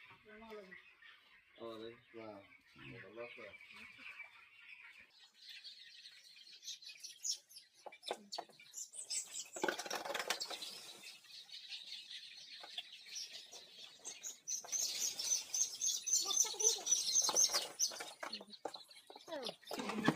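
Chickens on a poultry farm give short clucks and higher chirping calls, scattered and fairly faint, while people talk nearby in a quiet barn setting.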